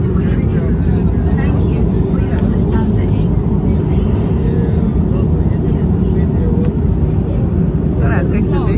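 Airliner cabin noise as the plane takes off on a trip to Spain: a loud, constant low engine roar filling the space, with people talking over it.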